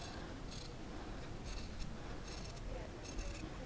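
Scissors snipping around a fabric circle at a craft table, four short crisp cuts in an even rhythm, close and fairly quiet.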